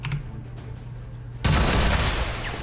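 Mag weapon gunfire in XCOM 2, a sudden loud burst of rapid shots erupting after a quiet stretch, sustained and close with a trailing crackle.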